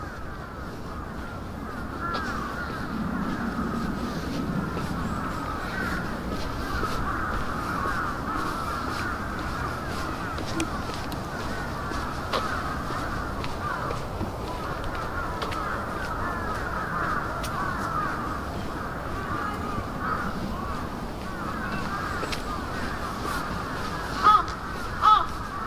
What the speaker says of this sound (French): on n'entend plus que les oiseaux ici